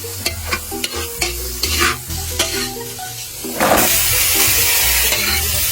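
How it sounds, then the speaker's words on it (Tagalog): Spices and vegetables, the firmer ones first, sautéing in hot oil in a pan for ginataang gulay: scraping stirs and clinks over a sizzle that jumps to a loud, steady hiss when more goes in. "Ready nang ilunod ni madam yung mga ricados pati na yung mga gulay."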